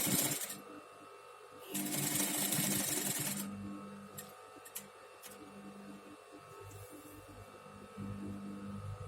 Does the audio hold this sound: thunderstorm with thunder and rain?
no